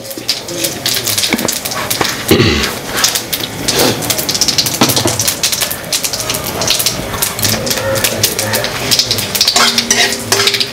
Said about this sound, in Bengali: দেখুন এখন জিরে দিয়ে দিচ্ছি। চলে যাচ্ছে জিরে।